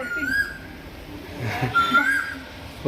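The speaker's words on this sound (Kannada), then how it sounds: "ಕೋಗಿಲೆ ಕೂಗ್ತಾಯ್ತು ನೋಡ್ರಲ್ಲಿ." An Asian koel calls near a temple garden, giving two rising whistled notes at moderate distance over light background noise.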